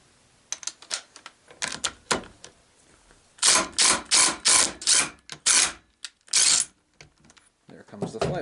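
A ratcheting flywheel puller tool is tightened on a Honda TRX450ER engine, first with scattered clicks, then a loud run of rapid ratchet bursts in quick, evenly spaced strokes, close up.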